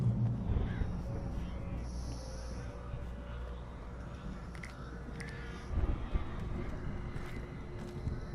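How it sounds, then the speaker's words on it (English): Crows caw a few times amid eerie ambience in the video game Alan Wake Remastered, mid-distance and partly masked by a steady low rumble, with a voice talking at times. "I don't like how many crows are around here."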